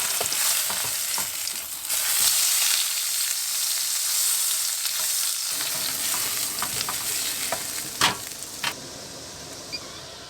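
Pieces of steak fry in a pan inside a camper van, giving a steady close sizzle and hiss throughout, with scattered pops and crackles and a brief stir-like shuffle, with no voices.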